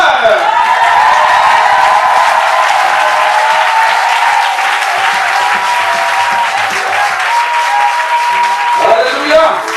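Loud church congregation applause and cheering, with sustained dense clapping mixed with whoops and voices that holds strong throughout and rises slightly near the end.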